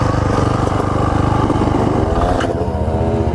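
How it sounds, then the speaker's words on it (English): A Yamaha motorcycle engine running at a children's ride day, a loud continuous close-up drone with a slight dip in pitch near the end and no speech over it. "Is the bike still running?"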